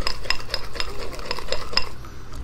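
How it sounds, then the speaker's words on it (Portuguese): Homemade slime stirred in a container: a quick run of light scraping and clinking taps, like a utensil knocking the sides, close and moderately loud. "Tem que mexer também, né? Vai ser mexendo ele."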